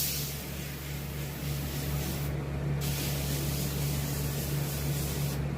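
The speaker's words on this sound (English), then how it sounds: "Plus, it's a dual action airbrush." Dual-action airbrush spraying paint while finishing a coyote shoulder mount, giving a steady, continuous close hiss with a low compressor hum beneath, a brief break in the airflow midway.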